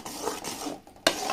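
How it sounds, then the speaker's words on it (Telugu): Sugar syrup for puffed-rice laddus boiling in a pan as a spoon stirs it; soft bubbling and scraping with a sharper knock at the end, all within a very short moment. "చూడండి అలా మరుగుతుంది కదా మనం పాకం చూసుకోవాలి"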